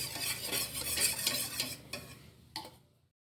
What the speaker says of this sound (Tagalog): So nagmix lang tayo guys ng ating ingredient.